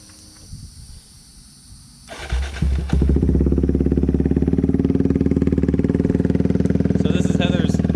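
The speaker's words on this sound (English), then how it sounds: "I'll go ahead and fire up the exhaust on one of them so you can get an idea." A Kawasaki Z125 Pro with a full-system exhaust starts after quiet rustling and settles into a loud, steady, thumpy idle with a rhythmic exhaust pulse, close by.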